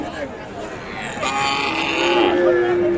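A young bull calf moos at the Raniganj cattle market, a drawn-out call rising through the second half amid crowd murmur and background bustle.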